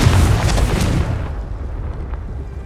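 A Confringo spell explodes in Hogwarts Legacy with a loud, close, rumbling blast that roars for about a second and then fades into a low, lingering rumble.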